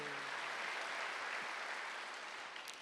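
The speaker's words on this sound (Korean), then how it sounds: "박수 한번 주세요." A church congregation claps together at a Wednesday worship service, a dense, sustained round of applause filling the room that slowly tapers off toward the end.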